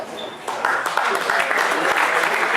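A crowd applauds after a speech on the podium at a corporate karting challenge at a kart track. Clapping swells after a brief quieter start and continues steadily, with talk mixed in.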